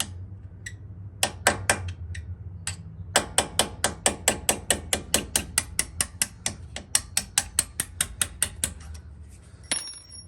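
A small hammer taps a metal punch in a steady run of sharp, ringing strikes while changing rear brakes on a Dodge Hellcat, some faster and some spaced apart, close by with no talking.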